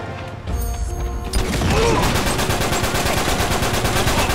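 Sustained automatic gunfire in an Uncharted 3 free-for-all multiplayer match, starting with a few sharp shots then building into a loud, rapid, continuous burst that runs to the end, with faint speech underneath.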